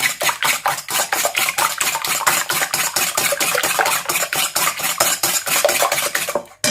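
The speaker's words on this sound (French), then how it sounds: "Donc on va commencer par battre nos 5 œufs." Five eggs beaten by hand in a bowl for a dry cookie dough, a fast, steady rhythmic clatter of whisk or fork against the bowl, close and continuous for several seconds with no talking.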